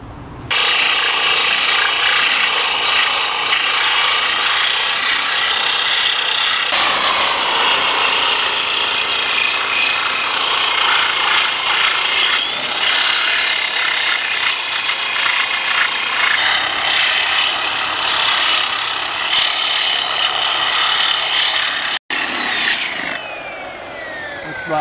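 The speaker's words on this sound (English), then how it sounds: "I'll sand this down." A loud power sander grinds continuously against wood for a long stretch, with the pitch shifting as it moves, briefly stopping once near the end.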